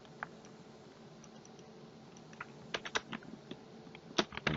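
Someone types a new name on a computer keyboard, a quiet irregular run of light key clicks that grows busier toward the end, with no talking.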